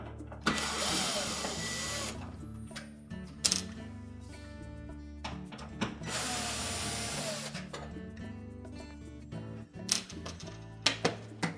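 Screws being removed from a Whirlpool range cooktop during element replacement, with bursts of mechanical whirring and rattling, intermittent clicks and clanks, fairly close.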